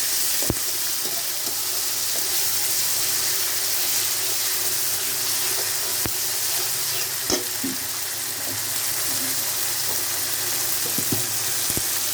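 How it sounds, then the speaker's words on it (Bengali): Garlic paste fries in oil in a pan for a rohu and pointed gourd curry, a constant close hiss and crackle broken by several sharp clicks and scrapes of a utensil. "রসুনটা ভাজা হয়ে গেছে।"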